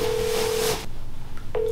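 A telephone ringback tone sounds on an unanswered outgoing call: a steady tone lasting most of a second, a short silence, then the next tone beginning, with no answer.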